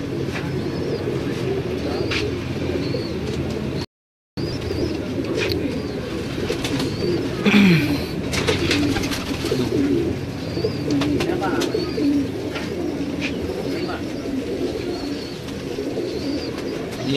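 Fancy pigeons at a Lahore loft coo in a continuous low murmur that runs through most of the stretch, broken by a brief dropout and occasional clicks, with faint voices now and then.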